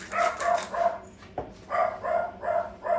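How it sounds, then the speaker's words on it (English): A dog barks in three quick bursts of several yaps each, fairly close and loud, with a short pause between groups, heard in a home kitchen during cooking. "I apologise, my dog is barking."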